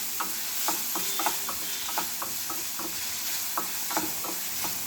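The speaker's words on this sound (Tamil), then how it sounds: "ஆனியன் போட்டு நல்லா வதக்கிக்கோங்க" Finely chopped onion sautés in hot oil while a spoon stirs it, making a soft continuous sizzle punctuated by regular scraping strokes against the pan, with no talking.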